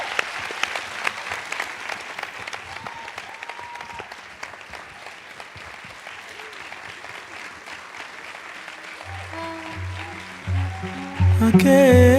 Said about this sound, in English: Please, a huge round of applause for Maria Ressa, Alexander Matsutuk